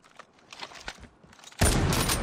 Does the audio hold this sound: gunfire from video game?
yes